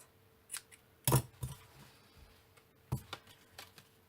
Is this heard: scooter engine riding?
no